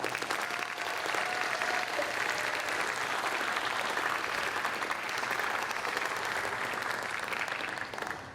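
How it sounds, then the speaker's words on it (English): Applause for newly inducted National Honor Society members at Warren County High School, a full, sustained roar of many hands clapping across the audience, steady and even for the whole stretch before tapering slightly at the end. "please join me in a round of applause for the new members of the Warren County High School"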